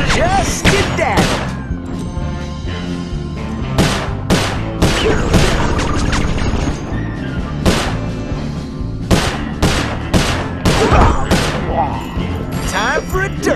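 Repeated gunshots ring out in a shootout from the video game Sly 4: Thieves in Time, set in the Wild West, with sharp bursts recurring over continuous game music and effects for the whole stretch.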